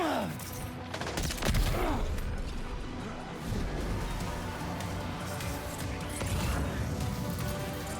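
Sustained gunfire from Death Stranding 2, with dense overlapping shots and bursts throughout and a few sharper cracks standing out from the steady din.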